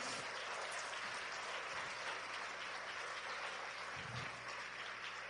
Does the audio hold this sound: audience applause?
yes